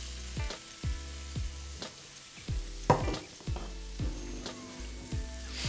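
Onions, leeks and mushrooms fry in a pan with a steady sizzle. Repeated stirring knocks and scrapes come at a regular pace, close by.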